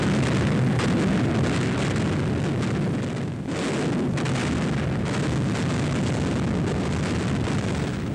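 Heavy bombs bursting in RAF night raids over Hamburg in July 1943 make a continuous loud, dense rumble of overlapping blasts, with one brief dip near the middle and no voices.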